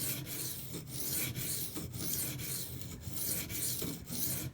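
Knife blade drawn along a 90 grit silicon carbide sharpening stone, close rhythmic rasping strokes repeating about twice a second, each a dry scrape followed by a brief pause.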